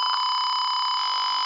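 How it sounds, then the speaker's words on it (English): An Arduino buzzer triggered by an ultrasonic sensor emits a loud, continuous electronic beep tone, steady and close for its whole length with no talk. "we are making the LED glow, and also we are making the buzzer to sound."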